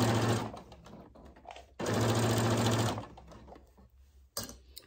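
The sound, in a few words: sewing machine stitching a cosmetic zipper bag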